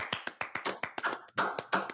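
A studio audience claps briefly, a sparse run of distinct, fairly quiet hand claps with gaps between them, with no talk over it.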